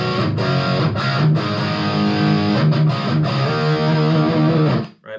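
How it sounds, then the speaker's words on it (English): An electric guitar through a cranked amp with delay and reverb, playing distorted sustained chords with repeating echoes, loud and close, then cut off near the end. "So this is the sound of the amp just cranked up."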